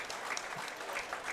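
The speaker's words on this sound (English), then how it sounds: "give both those exhibitors a round of applause" Crowd clapping for exhibitors at a county fair cattle show, a faint, even patter of applause from a distance, continuous and without voices.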